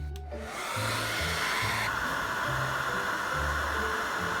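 A hair dryer runs steadily close by, drying a watercolor painting, a loud continuous whoosh of blown air with a low motor hum, starting up in the first half-second and holding through without talk.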